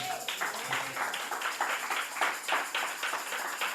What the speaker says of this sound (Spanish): ¿Cuánto le dan un aplauso a Cristo?